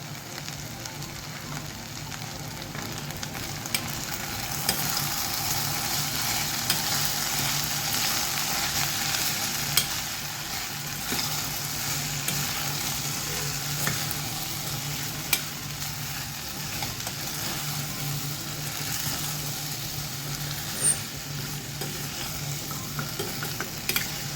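Potato fry with chili powder and salt being stirred in a pan, a steady sizzle with repeated scraping and occasional sharp clicks of the spoon against the pan, close and continuous without speech.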